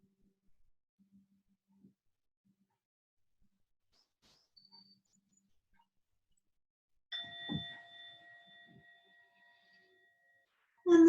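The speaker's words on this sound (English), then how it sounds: "And the bell has sounded, so just give a little wiggle to fingers and toes" A meditation bell rings once to end a restorative yoga pose, a faint but clear metallic tone with a long sustained fade in near silence, followed by a brief sound at the very end.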